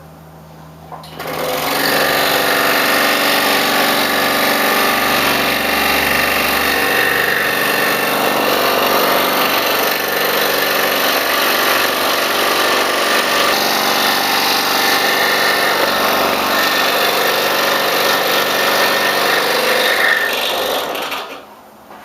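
A power saw cuts wood at an angle toward the center for a napkin holder inlay, running steadily and loud for about twenty seconds with a dense broadband whine, starting and stopping cleanly, with no talking.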